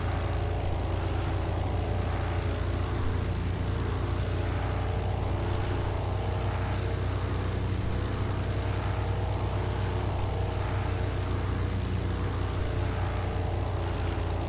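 World War II propeller planes drone overhead in the video game Forgotten Hope 2, a continuous loud engine roar with a low, steady hum that persists throughout.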